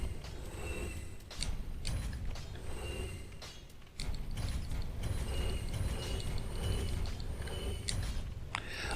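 Dark Souls 3 item-selling sound: a continuous run of creaking, ratchet-like mechanical clicks and pulley squeaks over a low grinding bed, fairly steady with one brief dip, no talking.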